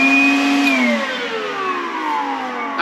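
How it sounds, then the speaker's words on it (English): A vacuum cleaner runs steadily with a loud whining motor, its pitch sliding gradually downward as it winds down, alone and close. "you can attach the hose on this end if you want to blow instead of vacuum"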